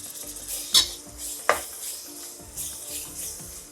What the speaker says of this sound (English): I've added the ground beef, and now we're just going to break it apart